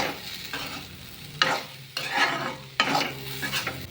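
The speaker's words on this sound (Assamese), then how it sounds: "এয়া আৰু দি আকৌ মই কিছু সময়ৰ কাৰণে লৰাই থাকিম এইখিনি।" Food fries in a pan with salt and turmeric as a spatula scrapes and stirs it in several distinct strokes over a soft, steady sizzle, close and without speech.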